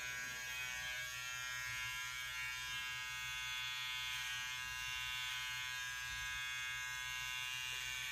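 Electric clippers shave off half of a mullet haircut, giving a steady, close, continuous motor buzz with a high whine that holds level throughout, with no talk.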